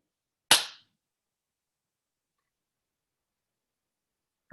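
One sharp, isolated hand clap for syncing a recording, loud and close, followed by silence, with a faint trace of another sound at the very end.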